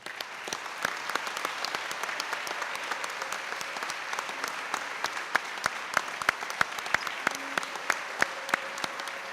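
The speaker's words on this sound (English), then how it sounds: "Let's give our 2024 induction class a big round of applause." A large crowd applauds steadily at a veterans hall of fame induction ceremony, dense clapping heard without speech, with some louder individual claps standing out near the end.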